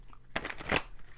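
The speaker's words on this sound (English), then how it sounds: "Two more shuffles." A quick, soft riffle of tarot cards being shuffled, close and fairly quiet, with no talking.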